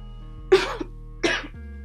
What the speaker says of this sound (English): You cough away from the food.